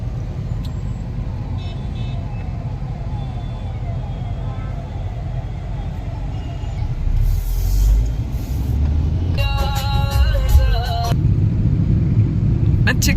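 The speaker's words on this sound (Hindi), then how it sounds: "ट्रैफिक देखो कितना है। ये सतना का ट्रैफिक, कोई कैसे भी घुस रहा है।" Busy street traffic at the Civil Lines intersection in Satna, with a constant rumble of engines, horns tooting in bursts near the end, and people talking over the din.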